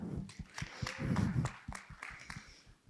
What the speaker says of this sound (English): So clap for Paula